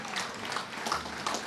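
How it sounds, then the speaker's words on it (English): Audience applause at the opening ceremony of Tortola Pier Park, a steady wash of many hands clapping at a moderate distance, continuous and even for the whole moment. "That deserves a round of applause."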